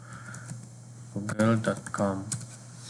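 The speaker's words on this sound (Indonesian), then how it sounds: "misal kita ketikkan google.com" Keys tapped on a computer keyboard in a short burst of clicks while typing a web address into a Windows browser, with a voice talking over the tapping.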